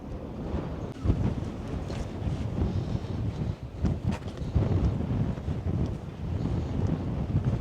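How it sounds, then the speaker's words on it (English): Gusty seaside wind blows at Brixham harbour in Devon and buffets the microphone with a continuous rumbling roar that rises and falls in strength throughout. "It'd be nice if the wind dropped."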